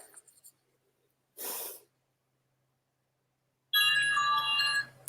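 A phone rings with a bright electronic ringtone, a single loud burst of layered tones near the end. It follows long quiet stretches and a brief breathy rustle.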